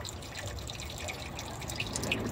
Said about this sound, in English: I'll put the phone down and flush this line out.